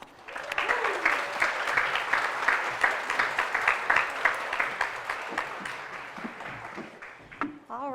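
Applause from a large audience at a Family Safety Center anniversary ceremony welcoming a speaker to the stage, steady dense clapping that holds for several seconds, then tapers off as a voice begins.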